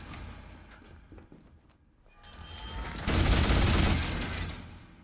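Automated turret opening fire in the video game Atomfall: sustained rapid gunfire swells loud in the second half after a quieter stretch of ambient rumble and scattered clicks.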